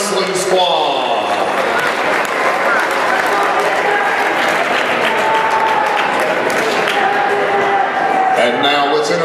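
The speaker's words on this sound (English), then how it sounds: "Again, another round of applause for your LCHS Panther Wrestling Squad." Loud, sustained crowd applause for the Lincoln County High School Panther wrestling squad in a school gym, with cheering and voices mixed in throughout.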